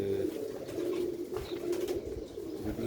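Old-breed Sialkoti pigeons coo steadily in low, throaty rolls, the soft calls overlapping almost without pause, with a few faint chirps from other birds in the background.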